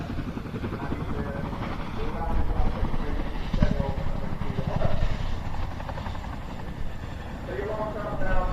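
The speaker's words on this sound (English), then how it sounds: "Now a straight and level quick stop, the aircraft transitioning into the hover." A Czech Air Force Mi-24 Hind helicopter hovers at an air festival display. Its steady thudding rotor drone and turbine whine carry at a moderate distance, and a commentator's voice runs faintly over the helicopter noise.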